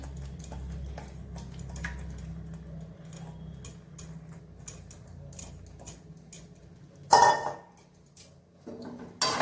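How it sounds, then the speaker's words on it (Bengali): A spatula stirs palak paneer, with spinach paste over paneer in a pan on low heat. It makes sparse, light ticking clinks against the pan over a quiet background, then a louder scraping rattle near the end. "এটাকে একটু নাড়িয়ে নিলাম।"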